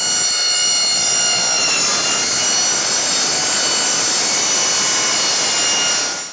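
Cutting a stainless steel exhaust pipe at a 90-degree bend makes a loud, continuous high-pitched grinding whine that holds steady for several seconds, close up, then stops abruptly.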